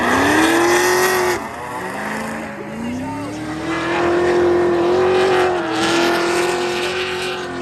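BMW inline six-cylinder drift car at the French Drift Championship at Circuit de Bordeaux Mérignac, its engine wailing loud and close with rising and falling revs and tire squeal, while a commentator talks over it throughout.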